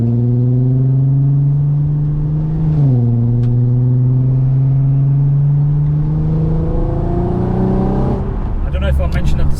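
A VW Golf R32 with a swapped 3.6-litre R36 engine and a stripped-out rear gives a close, deep droning engine note, dipping briefly then climbing steadily in pitch as it revs, with a rougher burst at the end.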